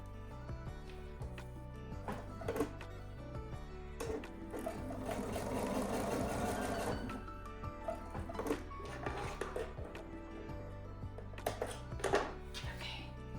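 A sewing machine stitches a partial seam across a quilt top, its steady mechanical whirr rising and falling in short runs with small knocks between bursts, close and moderately quiet.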